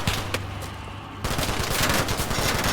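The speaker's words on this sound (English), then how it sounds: "Lots of incoming fire." Bursts of small-arms and machine-gun fire rattle across a Cold War combat battlefield in the Combat Mission game, a sustained low rumble giving way to a denser volley of rapid cracks.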